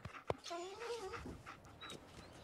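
The dog companion Dogmeat in the video game Fallout 4 gives a short sharp yelp, then soft whimpering and panting for a couple of seconds, faint and close.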